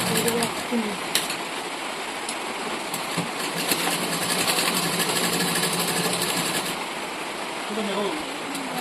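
A sewing machine stitches a bag made from a cement sack, whirring steadily at close range in a continuous buzzing run with brief pauses at the start and end.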